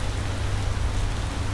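Rain in the video game Space Engineers: a loud, dense, steady patter with a low rumbling bed beneath, constant throughout and with no voices.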